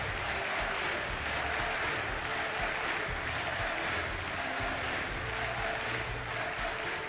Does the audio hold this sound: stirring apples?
no